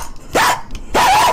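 Two loud, close dog barks, each a short tonal yelp with a falling tail, separated by a brief pause with no one talking.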